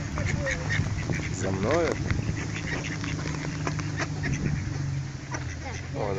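Wild ducks being hand-fed outdoors quack in a close, continuous chorus, including a grey duck, while a person talks briefly over the birds.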